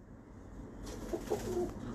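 A Kasuri pigeon cooing softly, a few low, short coos close by, faint against a quiet background.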